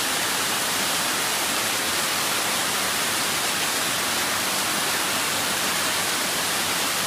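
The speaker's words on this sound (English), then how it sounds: "The sound of natural waterfall is so nice." A natural waterfall beside an easy hiking trail in Hong Kong roars continuously, a loud, close, unbroken wash of rushing water with no pauses or other sounds.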